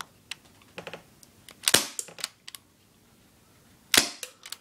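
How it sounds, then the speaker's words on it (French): An Air-Mag C11 air gun fires at a small box target about ten metres away, giving two loud, crisp cracks among several lighter clicks and taps of handling, with no voices. "Comme d'habitude, on tire sur la petite boîte en haut."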